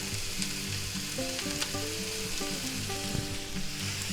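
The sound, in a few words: Poblano peppers frying in a pan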